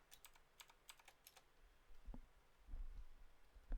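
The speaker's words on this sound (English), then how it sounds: "that's what I need to type in, and I press the enter key on my keyboard" Quick bursts of clicking keystrokes on a computer keyboard, a rapid run of light taps followed by a few heavier, spaced key presses, close and quiet with no talking.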